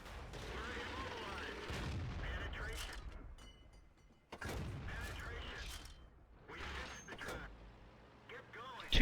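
Heavy artillery blasts and gunfire in a tank battle video game, booming shots and mechanical rumble recurring through the passage, with someone talking over them.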